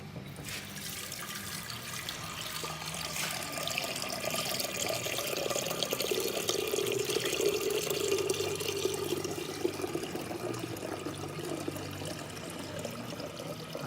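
Water poured into a container made of tiles stuck together with ARDEX X 77 cement-based tile adhesive, a steady continuous splashing trickle with no talk.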